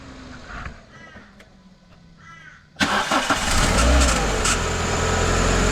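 A Cessna 182 aircraft engine with an unexplained mystery noise is quiet at first with faint sounds, then starts abruptly and runs loud and steady with a low rumble near the end.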